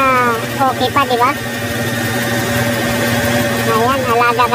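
A 1990 Ford F-150 work truck with a 4.9L engine idles steadily nearby, its low drone continuous and even, with people speaking over it.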